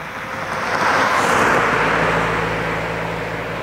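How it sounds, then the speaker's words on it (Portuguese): Traffic from a nearby road at sunset rises and fades as a car passes, a broad steady rush swelling in the middle and easing off, with no talking. "por que vocês estão escutando barulho de carro"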